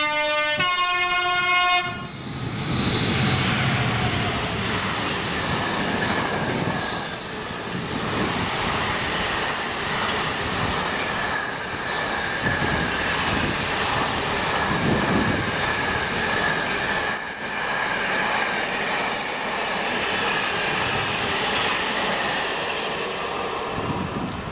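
A Class 66 diesel locomotive, 66727, hauling a freight train from Mossend PD Stirling to Doncaster iPort in Scotland. It opens with a loud horn blast, then comes a long, steady roar of engine and rolling wagons passing close by.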